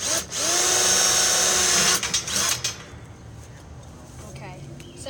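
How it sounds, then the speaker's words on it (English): A power drill whirs steadily for a couple of seconds while driving screws into metal tubing, then stutters in short bursts before fading, with background noise after. "now he's going to get a drill, and he's going to drill in the screws"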